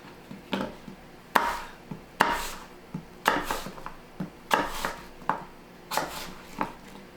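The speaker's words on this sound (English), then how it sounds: "So we're just going to cut up the apple." A knife chopping an apple into chunks on a board, about a dozen firm, close thuds in an uneven rhythm with short gaps between cuts, no voices.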